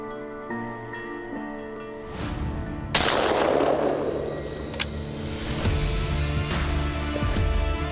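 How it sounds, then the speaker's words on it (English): Single rifle shot at a buck deer during a hunt, a sharp loud crack with a long rolling echo fading across open country, heard from close by. "and Cole had decided to shoot"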